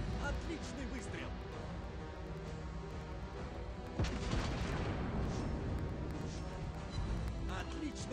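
Naval gunfire and explosions from World of Warships Blitz, a continuous dense rumble of booms with a sharper shot near the middle, steady and loud, with no speech.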